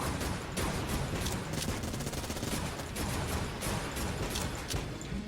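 A duct tape makeshift cannon in the video game Enter the Gungeon fires continuously, a dense, loud stream of rapid shots and clattering mechanical bursts that never lets up.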